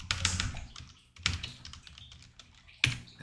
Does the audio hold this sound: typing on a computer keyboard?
yes